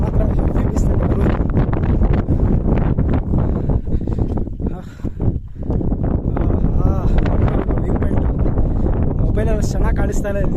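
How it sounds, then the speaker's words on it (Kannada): Strong wind roars and buffets the microphone steadily on a hilltop at Vanjangi hills near Vizag, loud and constant, with people talking over it throughout. "ಗಾಳಿ ಬರ್ತಾ ಮಾತ್ರ ಹೆವಿ ಬಿಸ್ತೈತೆ ಗುರು"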